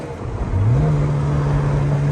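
A 2001 Ferrari 360 Spider cruises with the top down, its engine droning steadily and rising slightly in pitch as it picks up speed, heard from the passenger seat under heavy wind and road roar.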